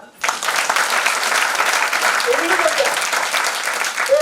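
An audience at a motivational business seminar breaks into loud, dense clapping that starts abruptly and holds steady, close and full, with a few faint voices underneath.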